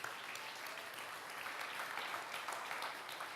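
A church congregation applauds in a steady, dense patter of many hands, fairly faint and distant, with no talk over it.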